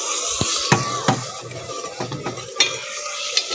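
Masala spices being fried and stirred in a pot for a meat salan, with a steady sizzle under repeated scraping strokes of a spoon against the pan, close and clear with no talk.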